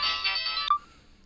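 A short electronic ringback tone sounds once, bright and steady, then cuts off abruptly with a brief blip.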